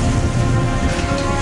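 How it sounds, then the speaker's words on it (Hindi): Heavy stormy rain pours down in a dense, constant roar, loud and close with no pauses, during a severe monsoon downpour in Srikakulam, Andhra Pradesh. "तूफानी बारिश का यह मंजर खौफ पैदा करता है"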